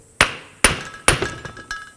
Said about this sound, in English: Then I'm going to take my hammer, hammer down on this inner joint.